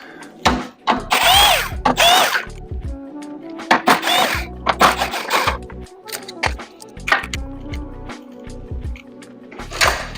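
A power tool rattles and whines in short bursts, loosening 12mm-head bolts from a car's core support during DIY engine removal, with clanks and handling noises between the runs.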